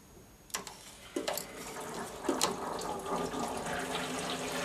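Radiator bleed valve opened to release trapped air and water, giving a few sharp hissy spurts followed by a steady close-up sputtering trickle, fairly quiet.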